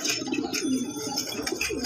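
A male fancy pigeon coos near at hand in repeated throaty phrases, alone without talk, with faint chirps and rustling around it.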